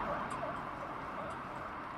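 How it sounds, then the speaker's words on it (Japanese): A wailing ambulance siren sounds at a distance over a low street rumble in Stockholm, its tone rising and falling, fairly faint throughout. "あ、すごい救急車が"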